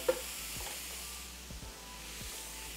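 Ground beef sizzling in a pan while stirred with a wooden spatula, a steady soft hiss with a few faint scraping strokes, close and quiet.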